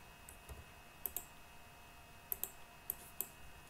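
Mouse clicks while adding a field to an attribute table in geodatabase software: a few faint, sharp clicks scattered singly and in pairs over a quiet background hum.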